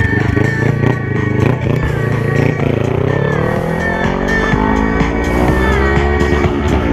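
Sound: BMW S1000RR motorcycle riding

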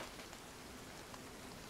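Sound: rain in a video game

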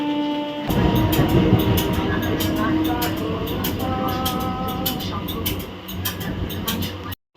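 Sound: train pulling into a railway station

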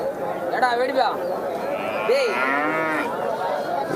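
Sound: cattle mooing at a native cattle market

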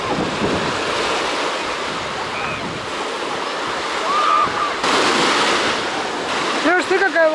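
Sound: large ocean wave breaking

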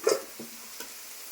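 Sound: frying spices for daliya khichuri, tempering dry chilli and cumin

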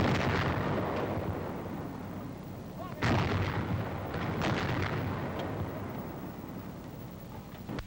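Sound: 90mm antiaircraft gun firing

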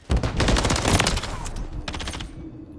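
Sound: gunfire from Call of Duty video game

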